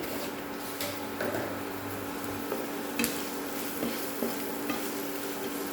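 Onions sautéing with salt in a pan give a steady, close sizzle throughout, with occasional stirring scrapes and clinks over the hiss and no talk.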